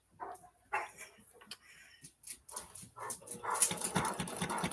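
A lively 13-year-old dog pants and gives short huffing, whimpering sounds in bursts, fairly faint and close, with no talk.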